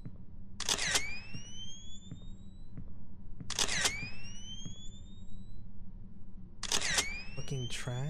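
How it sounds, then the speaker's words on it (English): Three bright in-game camera shutter clicks, each followed by a rising electronic whine, spaced a few seconds apart over a low ambient hum. "Push the shutter."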